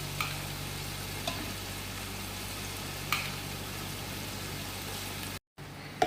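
Chicken egg fried rice being stir-fried in a pan gives a steady, close sizzle, with a few faint utensil scrapes and knocks. A brief dropout comes near the end.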